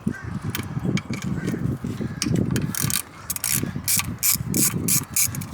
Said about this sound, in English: I'm gonna loosen up these bolts.